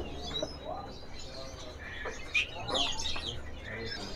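A pied bushchat, a small insect-eating bird, gives faint chirps and calls from a cage at a bird market stall amid steady background noise and distant chatter.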